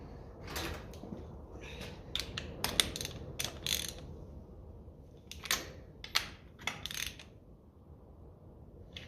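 A spark plug is threaded and tightened into the cylinder head of a 1957 Ferguson FE35 TVO tractor, giving quiet, close ratcheting clicks in short irregular bursts separated by pauses.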